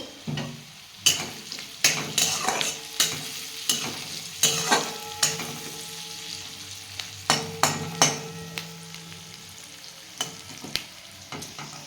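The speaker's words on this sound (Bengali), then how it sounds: "আমার পেঁয়াজ রসুনটা ভাজা হয়ে গেছে" Onion and garlic fry in a pan with a steady close sizzle, punctuated by a regular series of sharp scraping knocks as a spatula stirs them, with no one speaking.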